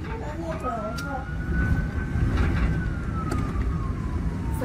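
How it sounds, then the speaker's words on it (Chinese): A fire engine siren wails faintly in the distance during a typhoon in Puli, rising and then slowly falling over a constant rumble of wind and rain. "下面有消防车，应该是要去帮他挡风吧"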